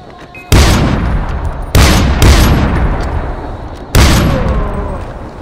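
Heavy gunfire in the video game Far Cry 4, with three loud booming shot bursts, each decaying slowly into a rumbling tail.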